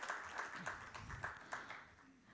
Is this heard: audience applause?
yes